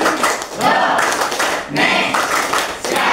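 A university micro-teaching class performs the patterned "tepuk Indonesia" clapping routine, with sharp grouped claps in rhythmic bursts and pauses, mingled with chanting voices.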